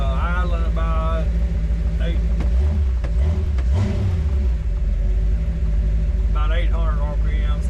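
A 1934 Ford Coupe's engine idles at about 800 RPM with a steady low rumble close by, while a person talks over it at the start and end.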